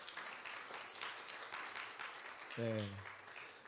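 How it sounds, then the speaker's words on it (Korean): A church congregation at a Sunday worship service claps to welcome visitors, with a sustained patter of applause that fades as a single voice briefly answers near the end. "우리 큰 박수로 환영했으면 좋겠습니다."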